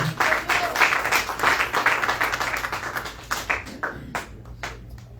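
A Spanish-speaking church congregation claps hands as an offering of praise, dense clapping that thins into a few scattered, separate claps near the end.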